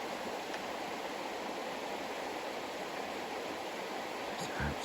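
A river flowing at a trout fishing spot in Hokkaido at the end of September, a constant broadband rush of water, steady and close, with no speech.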